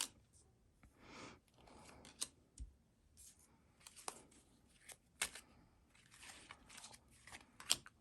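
A tarot card deck being shuffled up close, with faint irregular riffling and crisp card snaps scattered across several seconds, quiet and dry with no talking.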